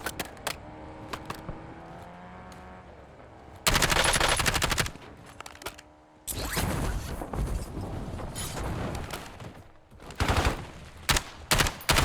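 Dense gunfire in Call of Duty Warzone: loud, sustained automatic bursts with overlapping shots and rattling effects, broken by brief pauses over a busy game soundscape.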